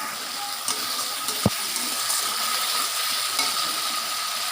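Spice paste with radhuni being sautéed for a fish curry (macher jhal), a close, steady sizzle with one sharp utensil click partway through.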